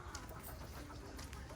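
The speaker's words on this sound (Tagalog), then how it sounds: "Pakain lang si kakabsat ng manok." Backyard chickens being fed cluck in a busy, continuous jumble, very faint and close together with no clear pauses.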